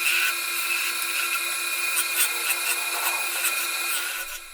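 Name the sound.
lathe turning a wooden block into a ball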